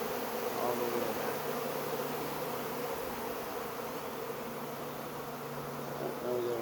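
A honey bee swarm hums in a back yard, a dense, continuous buzzing from many insects close around, steady and unbroken throughout with no talk.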